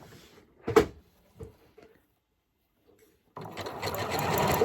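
A sewing machine stitches elastic onto Lycra fabric: a few short mechanical clunks, a pause, then a steady, close whirring run of stitching at the end.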